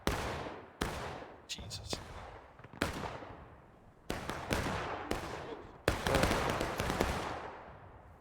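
Repeated gunshots ring out during an airsoft or milsim match on the School House Ridge map, sharp cracks in irregular bursts with some rapid volleys, fairly close and loud, with a brief voice exclaiming among the shots.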